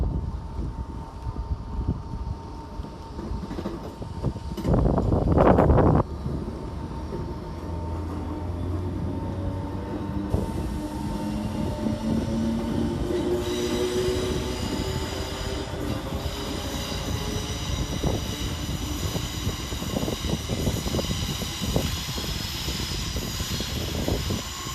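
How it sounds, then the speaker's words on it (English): Northern Class 319 electric unit 319375 pulls out of Edge Hill station on the Liverpool Lime Street to Wigan service, a sustained rail rumble with rising motor whine and wheel noise, plus a brief loud burst early on and no voices. "we see 319 375 depart with the 1749 Northern service from Liverpool Lime Street to Wigan Northwestern"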